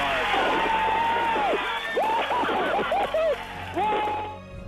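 People in a mission control room cheer and whoop at a spacecraft landing, loud overlapping excited voices and shouts, with a crowd roar beneath, fading out at the end.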